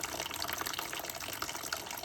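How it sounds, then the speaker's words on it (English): Water sprays from the top hose of a Bissell Revolution Pet Pro carpet cleaner in a steady, close, hissing splatter with no talking. "if I press that trigger again, water's gonna come out of the top hose"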